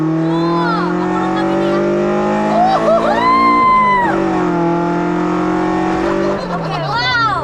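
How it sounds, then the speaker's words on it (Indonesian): A rare Toyota AE86 engine roars steadily and loud from close by, pitch rising and falling with revs, while people talk over it. "Wah, gila deh ini mobil teriaknya."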